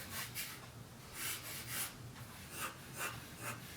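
Pencil sketching a Bulbasaur body on paper: soft, close scratchy strokes in uneven bursts, each lasting under half a second, with quiet pauses between and no talking.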